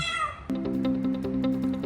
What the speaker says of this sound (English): She will meow so loud and walk back and forth nearby until you let her in.